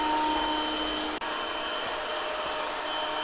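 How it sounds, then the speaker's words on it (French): A vacuum cleaner runs steadily in a dining area, a loud continuous high whine with a brief dip partway through and no voices. "je vais envoyer l'aspirateur au niveau de l'espace salle à manger"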